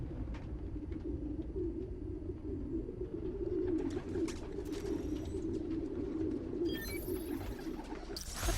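Pigeons coo low and continuously in a park in Spider-Man: Miles Morales, a soft, rolling murmur that runs throughout, with a few brief chirps and clicks toward the end.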